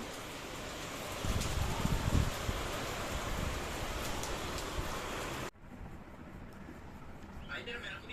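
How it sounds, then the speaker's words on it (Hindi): Steady rain hisses on surfaces, close and dense, with a few louder spatters, then the sound drops away suddenly to a quieter background. "मुझे आवाज़ आई मैंने कहा बारिश आई"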